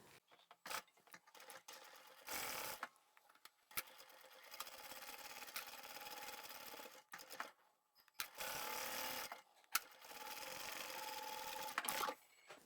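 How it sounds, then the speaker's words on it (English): A sewing machine stitching across outer bag fabric for a reversible boho sling bag, running in several short bursts of rapid mechanical whirring separated by quiet pauses. The machine is fairly faint. "Let's go and sew across here and the outer"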